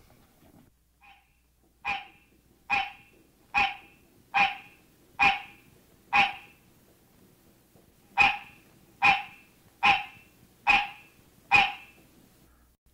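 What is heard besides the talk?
mating call of hybrid green tree frog x barking tree frog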